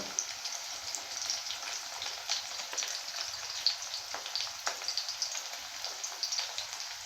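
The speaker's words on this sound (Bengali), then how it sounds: "তো আমি এখানে আদা রসুনটাকে খুব সুন্দরভাবে আমি ভেজে নেব" Ginger garlic paste frying in hot oil, a steady crackling sizzle with dense spitting pops throughout, close and even, no talking.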